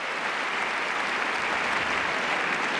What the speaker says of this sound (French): Applaudie par Roddick lui-même d'ailleurs.